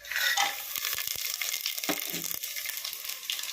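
Whole spices, fennel, star anise, cinnamon, cloves and cardamom, with cashews frying in hot oil for a coconut milk rice, a bright crackling sizzle. A few stirring scrapes and knocks sound close by.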